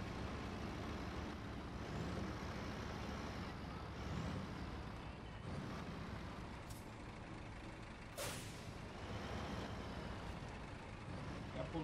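A heavy diesel truck in SnowRunner rumbles continuously while it works, with hissing air-brake bursts and a few sharp transient knocks breaking through the steady engine drone.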